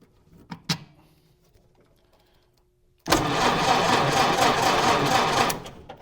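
A close-miked starter cranks the engine of a Model A Ford for about two and a half seconds, a steady, loud whirring grind that begins abruptly after a few faint clunks and near-silence, then stops.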